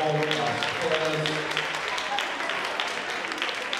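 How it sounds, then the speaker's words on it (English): A school audience applauds its scholars at a literacy week grand finale, a steady wash of clapping filling the room, with a voice talking over it at the start. "Please, a round of applause for all our scholars."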